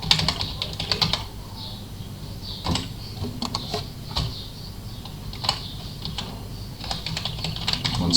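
Fingers type on a computer keyboard in close, uneven clusters of clicks while an IP address is entered, with pauses between bursts and a faint background hum.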